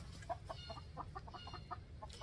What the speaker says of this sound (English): I've got a chicken fight going on behind me